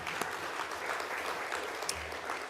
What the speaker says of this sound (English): So round of applause to you